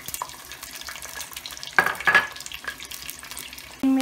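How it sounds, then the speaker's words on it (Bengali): Chopped onions go into hot oil, giving a brief burst of sizzling and spattering in the middle, followed by a steady low frying hiss and a clink near the end. "এখন আমি সেই এক কাপ পেঁয়াজ কুচি দিয়ে দিব"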